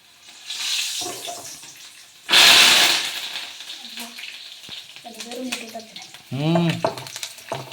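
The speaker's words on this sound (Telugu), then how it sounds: "కరివేపాకు అంటే మరి చిట్లేదేనా" Curry leaves hit hot oil with a sudden loud burst of crackling and sizzling, followed by quieter frying and some talking.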